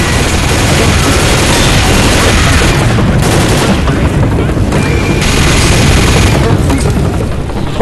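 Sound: gunfire and explosions in Left 4 Dead video game

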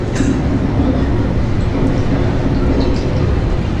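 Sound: cable car turning around

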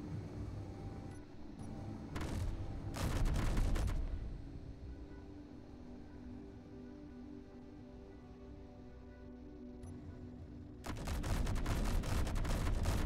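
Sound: ship's cannon firing in a video game

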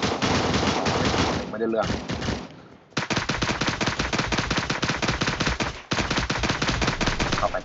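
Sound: gunfire in the video game Cyber Hunter

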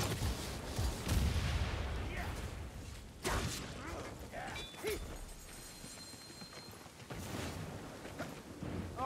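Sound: Skaven ratling gun firing in the video game Vermintide

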